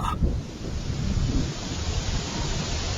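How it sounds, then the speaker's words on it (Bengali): Rain begins pouring down in an animated cartoon as a hailstorm arrives, a dense, even rushing hiss that fills the scene steadily with no voices. "এ কি, এ তো বৃষ্টি শুরু হয়ে গেল।"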